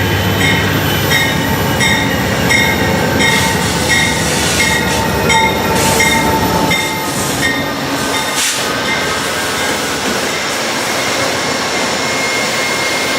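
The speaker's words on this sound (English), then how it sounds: "we caught Amtrak's Capital Limited as it pulled into the station" Amtrak's Capital Limited passenger train, led by locomotives 86 and 821 with Superliner cars, rolls into a station with a loud continuous rumble, wheel squeal and a steady tonal engine whine, heard close up without talk.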